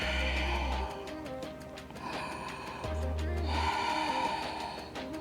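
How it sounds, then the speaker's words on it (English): Slow breaths drawn in and pushed out through the nose during a kettlebell yoga flow. The airy, audible inhales and exhales rise and fall over soft background music. "Breathing in and out of the nose."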